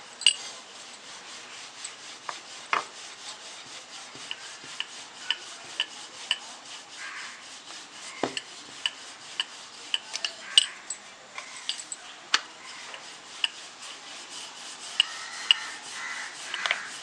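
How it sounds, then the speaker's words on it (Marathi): A rolling pin presses and rolls out puri dough, dusted with rice flour, on a board, making soft repeated rubbing strokes with regular light taps and knocks, fairly quiet and close, no talking. "आणि हे आपण छान असं चपातीसारखं लाटून घेऊया"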